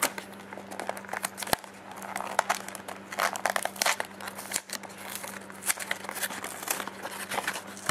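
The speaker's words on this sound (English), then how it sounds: "This is the wrong way to open a box." A Yu-Gi-Oh Cosmo Blazer booster box being torn open, with crinkling and ripping of cardboard and plastic wrap in irregular bursts over a steady low hum, close to the listener.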